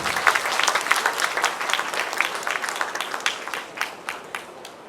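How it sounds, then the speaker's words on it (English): Audience applause for certificate recipients at a Diwali festival stage event, a steady patter of many hands clapping at moderate distance that thins out and fades toward the end, with no voices over it. "Please give them a big round of applause."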